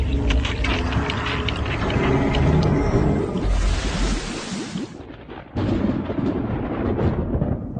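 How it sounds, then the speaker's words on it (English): Low rumbling thunder rolls in from a storm front over Lake Champlain, a long heavy boom that swells, fades and returns, loud and without voices. "A storm front appears on the horizon of Lake Champlain."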